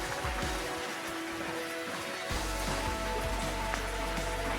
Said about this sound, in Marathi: बघू शकता बाहेर पाऊस चालू आहे